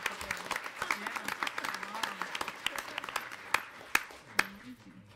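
Scattered applause at a board of education meeting, uneven claps from a modest audience with a few sharp nearby hand claps toward the end and faint talk underneath.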